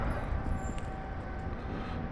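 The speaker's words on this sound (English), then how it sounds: "Here you can see another tram 15T" A 15T tram passes close by at a city square, giving a loud, steady rolling rumble with a thin high squeal above it.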